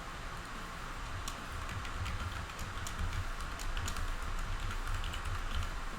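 Steady typing on a computer keyboard at a desk while working in a desktop crypto wallet program, continuous clicking keystrokes at a close, moderate level over a broad hiss of room and fan noise.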